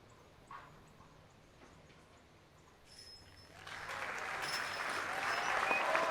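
A disc golf crowd at the European Open in Nokia breaks into applause that swells from quiet into sustained, loud clapping and cheering.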